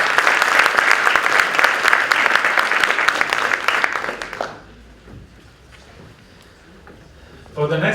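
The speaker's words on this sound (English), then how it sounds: "A round of applause for Jetway" An audience at a tourism startup pitching session applauds the startup Jetway with loud, busy clapping for about four seconds before it stops abruptly. A quiet pause follows, then someone begins speaking.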